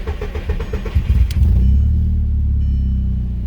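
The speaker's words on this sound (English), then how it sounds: "once you connect everything, you shouldn't have no problem starting the car" A VW/Audi 1.8T car engine with a racing fuel pump and a pedal sensor problem cranks briefly and catches, settling into a loud, steady low rumble close by.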